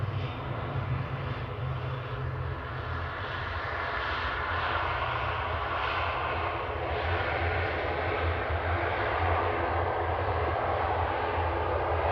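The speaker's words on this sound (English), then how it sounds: "Reedy coming in from Guernsey there, GPEM, ATR 72600, flight 678." An ATR 72-600 turboprop airliner arriving from Guernsey at Manchester Airport roars steadily and loudly, a sustained engine drone with a low rumble that holds fairly constant throughout.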